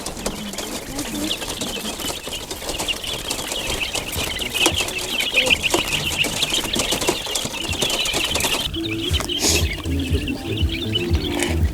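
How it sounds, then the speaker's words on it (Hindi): Bulbul birds set free from a cage in Karachi chirp busily as they flutter off toward nearby trees, a dense layer of bright twittering with wingbeats and background rustle, a voice occasionally underneath. "देखें कैसे चहचहाते हुए पेड़ों की तरफ जा रहे हैं"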